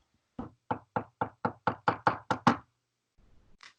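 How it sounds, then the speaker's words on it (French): Nine sharp, evenly spaced knocks on a door, close and loud in a quiet room, followed by a brief faint shuffle. "2 hommes frappent à la porte."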